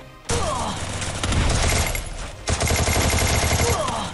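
Dense bursts of rapid gunfire from a video game PvP fight rattle loud and continuous, with a brief break before another heavy volley.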